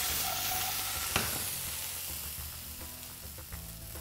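New potatoes sizzle steadily in a hot pan, with a few soft knocks and scrapes as they are tossed, the frying hiss continuous and close with no talking.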